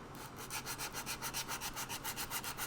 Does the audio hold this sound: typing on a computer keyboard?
no